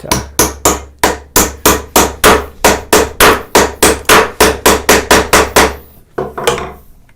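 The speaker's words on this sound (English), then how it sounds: "here I am rushing, missing, and hitting the wood" A mallet strikes a chisel into wood while half-blind dovetails are cut, making loud, close, rapid rhythmic knocks, around twenty in a steady train, then a brief pause and a few softer blows.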